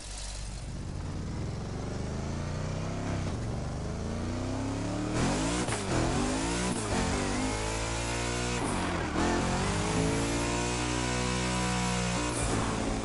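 Tuned car in The Crew Motorfest racing game, its engine revving hard and loud through repeated rising gear pulls, with sharp drops between shifts, close and dominant throughout.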